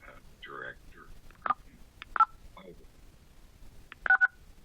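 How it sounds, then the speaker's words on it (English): Several short beeps from a telephone keypad as someone dials during a water district board meeting, scattered single tones and a quick double press, faint talk in the background. "Sounds like somebody using their phone"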